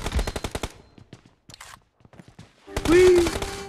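AKM assault rifle fire in a video game: a quick rhythmic burst of sharp shots at the start, then a few scattered single shots, with a brief voice line near the end.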